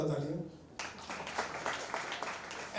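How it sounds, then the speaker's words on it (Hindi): A short burst of audience clapping breaks out at an anniversary celebration for a sanitary pad bank. It comes just after a brief moment of someone speaking and continues as scattered, moderately loud applause. "जोरदार तालियां।"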